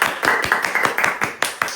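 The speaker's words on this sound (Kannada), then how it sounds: "ಜೋರಾಗಿ ಚಪ್ಪಾಳೆ" An audience claps loudly at a comedy show in a quick, uneven rhythm of sharp hand claps, close and prominent for a couple of seconds.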